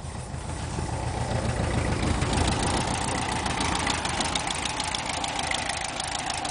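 A Volkswagen Super Beetle engine idles continuously with a steady, clattery mid-pitched chug, heard close and moderately loud with no talking.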